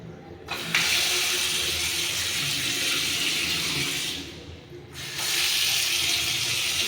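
Water runs from a newly installed tap in a house under construction, a loud steady splashing stream that briefly cuts off and then resumes.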